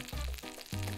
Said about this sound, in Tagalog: Nagpiprito tayo ng bituka ng bangus.